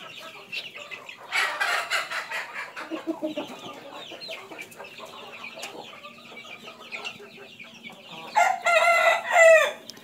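A flock of young vaccinated chicks kept for poultry clucks and cheeps continuously while drinking water, with a burst of louder clucking near the end.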